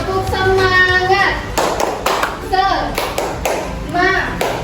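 Classroom children in a multigrade class doing the 'tepuk semangat' chant, rhythmic group claps alternating with a teacher's sung call and the children's voiced reply.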